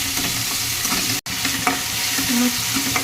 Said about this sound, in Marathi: मस्त टोमॅटो मऊ होईपर्यंत भाजून घ्यायचं।